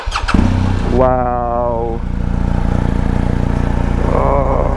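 A BMW R1250 GS Adventure motorcycle cranks and its boxer engine fires up, then settles into a steady, loud nearby idle, with a brief exclamation heard over the engine.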